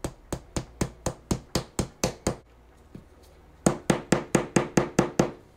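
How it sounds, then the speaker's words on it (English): A wooden dowel is hammered down through a stacked cake and cake board to the countertop: a steady run of sharp, evenly spaced knocks, close and loud, pausing for about a second before the blows resume. "I'm putting it on top and pushing it until I can't hammer anymore"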